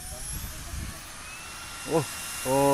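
Helicopter passing overhead during an outdoor ride, heard as a steady broadband rotor wash with a rising engine drone near the end and brief voice-like sounds.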